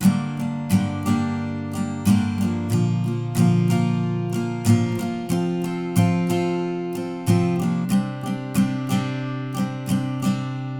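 Acoustic guitar strumming chords in a steady rhythmic pattern, with sharp regular strokes ringing out close and clear, no voices.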